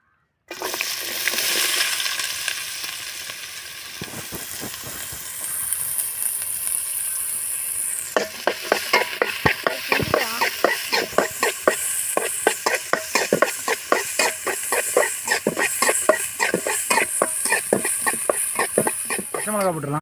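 Green chilies and onion frying in hot oil in a pan, a steady sizzle that swells into loud crackling and spattering, with a voice talking now and then.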